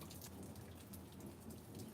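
Steady rain falls during an electrical storm while a lawn is being mowed, a dense continuous hiss of drops hitting surfaces at a constant level with no voices.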